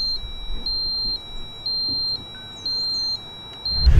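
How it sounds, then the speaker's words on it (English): A Schlage Encode Plus smart lock sounds its wrong-code alarm: a shrill, regular series of high beeps repeating about twice per second, close and clear over quiet background. "If you type in the wrong code 4 times, an alarm will sound and the keypad will lock up for 15 seconds."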